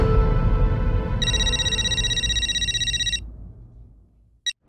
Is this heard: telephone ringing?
yes